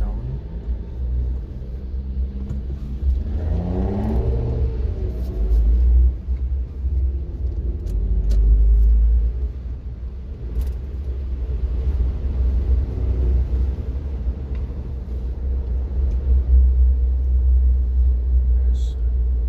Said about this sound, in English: There's the big car that is the winner of the Strin Festival burning competition 2019.